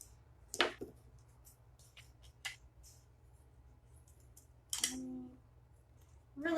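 Scissors snip through a plastic milk jug during a kids' craft project making a plastic necklace: a few separate, crisp cutting crunches spaced seconds apart, close and fairly quiet.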